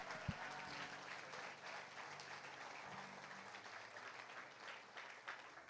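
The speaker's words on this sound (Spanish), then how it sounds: "Bríndele un aplauso al Señor." A church congregation bursts into sustained applause for the Lord, many hands clapping in a dense, steady wash throughout, with a low hum in the background.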